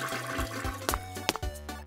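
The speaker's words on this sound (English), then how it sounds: "So Romeo gave the toilet a really big flush" A Play-Doh toy toilet flushes with a short, cartoonish gurgle and a few quick watery bursts, with no talking.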